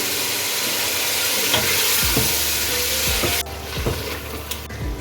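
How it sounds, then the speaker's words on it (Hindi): Garlic ginger paste sizzles and fries steadily in a hot pan, with occasional scraping strokes of stirring, close and fairly loud. "लहसुन अदरक पेस्ट वो डालकर इसको 5 से 6 मिनट के लिए इसकी अच्छे से भुनाई कर लें"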